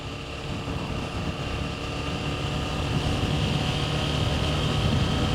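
KTM 790 Adventure S motorcycle engine droning steadily while riding in third gear at about 35, sounding slightly boggy, a continuous loud hum with wind noise and no talk.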